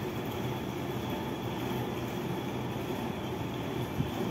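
Local train at Howrah railway station platform, a continuous loud rumble of rolling railcars with faint wheel clatter and a brief squeal, busy station ambience and no clear talk.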